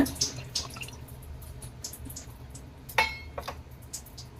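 Homemade herbal hair oil pours into a bottle in a thin trickling stream with a few light drips and small glassy clinks, close and fairly quiet.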